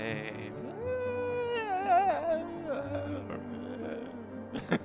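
A cat gives a drawn-out, wavering meow that rises and bends in pitch like a wailing caterwaul, close and fairly loud over faint background music.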